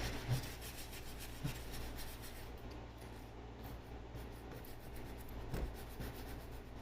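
Steady abrasive rubbing as sandpaper works old varnish off a vintage child's wooden rocking chair with wicker, a continuous close rasp with slight swells and no talking.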